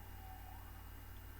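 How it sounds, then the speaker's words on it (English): Emergency-vehicle sirens sound faintly in the distance as a brief wail over a steady low hum, with no voices present. "enjoy the sirens in the background"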